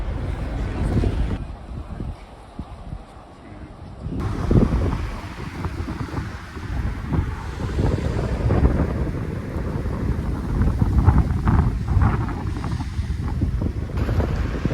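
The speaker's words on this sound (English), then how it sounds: "This is Penzance Inner Harbour" Water lapping and wind buffeting the microphone at Penzance Inner Harbour, a loud continuous outdoor wash with gusty rumble and shifting swells throughout, no voices.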